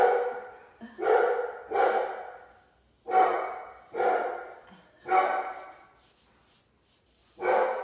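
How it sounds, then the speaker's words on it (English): A dog barks indoors in a series of loud, close barks, roughly seven of them in irregular pairs and singles with short quiet gaps between. "They have a dog, by the way."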